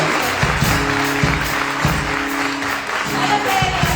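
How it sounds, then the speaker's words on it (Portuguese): A church congregation applauds steadily, a dense, sustained wash of clapping with a low tonal hum or music underneath. "Olha para ele e aplaude."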